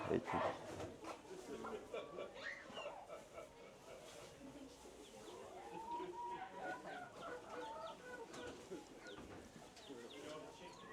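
Several chickens cluck and call around the listener amid a busy outdoor crowd at a farm, with people talking over them throughout.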